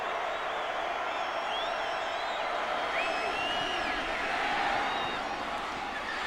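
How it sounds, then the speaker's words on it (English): A football stadium crowd at a 2002 UTEP at Oklahoma college game roars steadily from a distance, a dense sustained wash of cheering that swells slightly toward the end. "Crowd getting into it."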